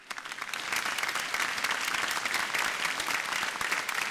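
A congregation at a large diocesan church assembly breaks into applause, clapping swelling within the first half second and then holding as a dense, steady roar of hands.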